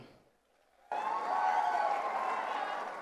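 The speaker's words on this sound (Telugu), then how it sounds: "ఇవాళ గట్టిగా మోమాటం లేకుండా చప్పట్లు కొట్టచ్చు." Audience applause at a live folk song performance bursts in suddenly after a near-silent moment, a dense, sustained clapping from a crowd that stays loud to the end.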